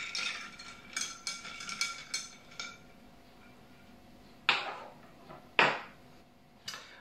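Ice, glass and metal clink and rattle while an Italian paloma cocktail is mixed, with a busy cluster of small knocks early on, then two louder, sharp chinks and a final lighter tap, all close and without talk.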